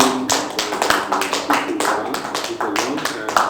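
An audience at a home unveiling event claps in irregular bursts of light, close taps, mixed with a person talking over it.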